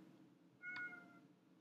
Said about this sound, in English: That's my cat. She thinks she's hungry.